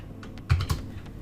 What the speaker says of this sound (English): So I'm going to type this out